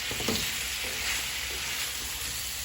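Boiled, tenderized pork pieces sautéing with caramelized onion and garlic for Filipino kare-kare, giving a steady close sizzle and crackle with a few soft stirring knocks.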